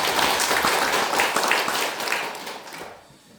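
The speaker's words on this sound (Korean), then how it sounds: "환영의 박수 하겠습니다." A church congregation claps in welcome during a Sunday Parents' Day service, dense loud applause from many hands that holds steady, then fades out near the end.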